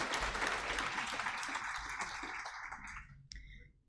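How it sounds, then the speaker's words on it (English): An audience at a gala applauding, a close burst of clapping that gradually thins out and fades, ending with brief chatter. "we need to clap"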